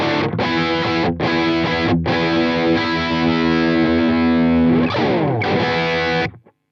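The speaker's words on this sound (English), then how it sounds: "Let's try the Morning Glory and the tube screamer together," Electric guitar with the full humbucker selected, run through a PRS MT15 amp with Morning Glory and Tube Screamer pedals stacked, plays heavy distorted chords that ring out loud and sustained before cutting to silence.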